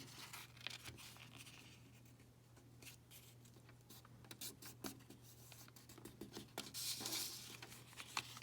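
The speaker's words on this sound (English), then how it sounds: "Take the corners and fold them to the center." A square of paper is folded corner to center for an origami fortune teller, giving soft crinkles, creases and brushing taps, quiet and close, over a low steady hum.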